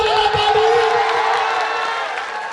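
Audience at a Bhojpuri romantic stage show cheering and shouting, a loud crowd roar with whoops that gradually fades, voices mingled in the noise.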